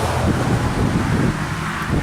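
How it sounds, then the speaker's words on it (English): A steady broadband road roar of cars passing close by outdoors, with wind buffeting the microphone and no distinct single pass standing out. "Wow, cars."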